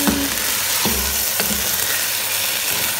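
Jareesh, crushed wheat, sizzles loudly in a hot pan, with a steady crackling hiss and a few scraping stirs near the start.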